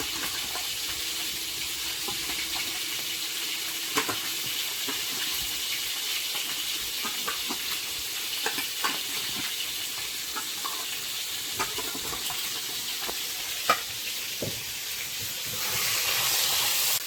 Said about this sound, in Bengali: মাছগুলো একটু উল্টে পাল্টে দিই